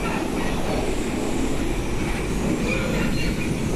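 A Flixbus rides aboard a train through the Channel Tunnel between Europe and England, giving a steady, loud rumbling roar of rail travel that stays constant and unbroken from start to end.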